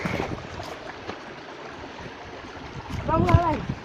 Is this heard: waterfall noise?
yes